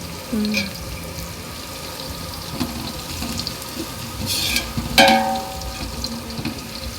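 Onions fry with cinnamon and cloves for biryani, giving a soft steady sizzle with occasional clinks and stirring sounds close by and no speech.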